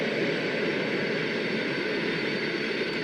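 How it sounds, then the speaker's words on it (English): Four Airbus jet engines running in a flight simulator cockpit, a steady, loud, unbroken roar and whine that holds level throughout with no talking. "we got all 4 engines up and running"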